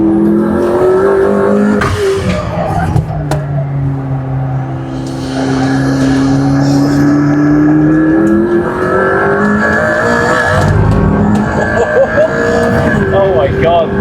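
A McLaren P1 driven flat out by an F1 driver, heard from inside: a loud, close engine howl whose pitch sweeps up and down through gear changes, with excited voices talking over it.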